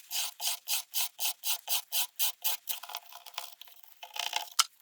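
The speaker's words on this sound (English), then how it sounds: "Now it's time to trim the hole" A razor knife trimming a hole in a multi-ply oak-look wood panel, heard as about a dozen evenly spaced rasping strokes up close, then a few looser, scratchier scrapes at the end.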